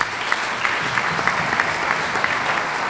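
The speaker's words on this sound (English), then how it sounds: "So another round of applause for these guys who did something new and did well." Round of applause at a school fall sports banquet, steady indoor clapping from a moderate crowd, even and continuous throughout.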